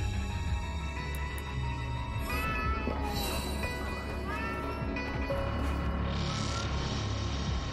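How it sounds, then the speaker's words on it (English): A cat meows in the video game Astral Chain, a few short rising and falling calls over a steady droning game ambience and hum, with another brief cry later. "Oh, there's a cat and I can't save it."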